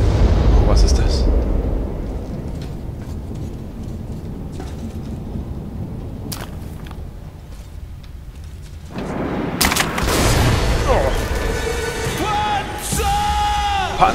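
Loud explosions and heavy blasts in the video game Metro: Last Light, with tank fire booming through dense rumbling combat noise; a sharp burst near the end, someone shouting excitedly over the din.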